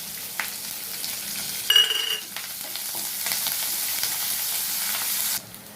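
Drumstick leaves and onions fry and crackle steadily in a hot pan while being stirred, a continuous close sizzle with a brief scraping clatter of the spoon partway through and no talking.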